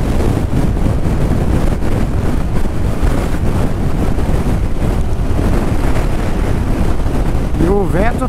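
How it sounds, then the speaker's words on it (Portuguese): Strong wind sweeps across a national reserve near the active Sabancaya volcano, roaring and buffeting the microphone in a loud, unbroken blast from start to finish. "E o vento tá pegando."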